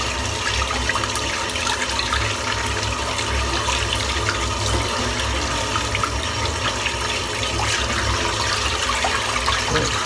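A shaving brush rinsed under a running tap, a steady loud rush of water that continues evenly throughout, with no talking.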